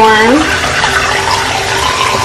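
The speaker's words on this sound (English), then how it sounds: "Yeah, we know the hot water working, okay? And cold." Water runs from the faucet into a newly installed vessel sink on a butcher block countertop, giving a steady, close rush after a brief rising squeal at the start.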